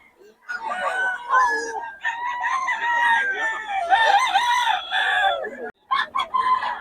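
Roosters crow repeatedly, their drawn-out calls overlapping and close by, with a brief pause before one more crow at the end.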